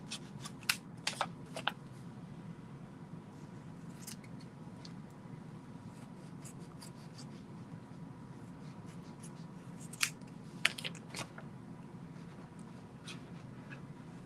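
Scissors trimming excess glitter and fabric vinyl off a sheet, faint crisp snips and rustles scattered in small clusters over a quiet room hum.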